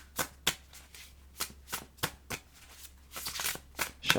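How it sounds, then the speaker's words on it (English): Tarot cards being shuffled by hand, a series of crisp riffling bursts and soft slaps, close and fairly quiet, with short pauses between each shuffle and no talking. "Shuffling it 5 times."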